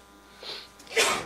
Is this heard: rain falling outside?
no